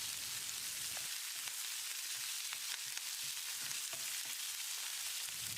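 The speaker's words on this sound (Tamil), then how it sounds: "ஒரு 10 செகண்ட் இதை பெரட்டி விட்டுடலாம்." Chopped curry leaves, ginger and green chillies sizzle steadily in hot oil in a pan, with a constant bright hiss and occasional scraping clicks from stirring.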